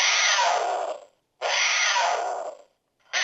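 An electronic cougar call plays from a camo walkie-talkie's built-in animal call feature: two loud, harsh, breathy screams, each about a second long, followed by the start of a third, with no talking.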